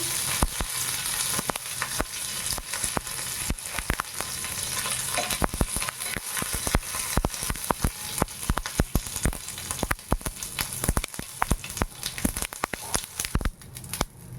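Dried curry leaves crackle and sizzle loudly in hot oil, a dense steady fry peppered with sharp pops throughout, close and continuous with no voices.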